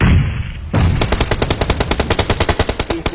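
Rapid automatic gunfire from PUBG Mobile, a fast, even burst of loud shots starting shortly after a brief lull and running steadily to the end, with no talking over it.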